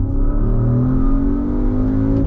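A sports car accelerates hard under full throttle, a loud, close engine note rising steadily in pitch with dense layered harmonics and no talking.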